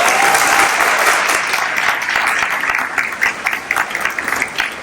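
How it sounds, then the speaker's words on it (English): A school audience claps at an event honouring Muscle Shoals City Schools performers, dense sustained applause that stays loud and close for the whole stretch, thinning slightly toward the end. "Let's give them one more round of applause"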